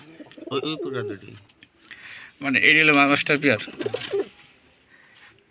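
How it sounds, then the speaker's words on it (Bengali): Pigeons coo in a loft of Rajshahi Giribaz pigeons, low soft coos mixing with a voice as he talks close by over most of the stretch. "কবুতরগুলো দেখেন দর্শক"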